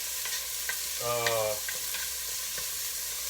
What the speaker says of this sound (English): you want to caramelize the onions